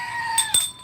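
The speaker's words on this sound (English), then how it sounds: "And my screaming goat." A screaming goat noisemaker toy lets out a loud, strained, bleating wail close by, holding a long tone with a couple of brief bursts before it cuts off.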